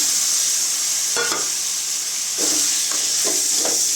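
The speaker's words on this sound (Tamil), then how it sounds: "அடுத்து மட்டன் சேர்த்துக்கலாங்க." Mutton goes into a hot pan with ginger garlic paste for mutton kulambu, giving a steady close sizzle and hiss, with a few scraping stirs of a spoon breaking through.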